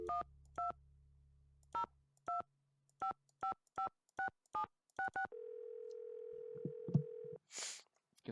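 Telephone keypad tones in the Nancy Drew game Secret of the Scarlet Hand: a low dial tone, then about a dozen evenly spaced dialing beeps, followed by a steady ringing tone and a faint click.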